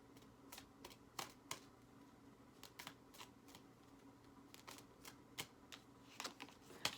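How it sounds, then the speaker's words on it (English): Tarot cards being shuffled by hand, giving quiet, crisp riffling clicks and snaps in irregular bursts against a soft, steady background hum, with no talking. "I want to shuffle"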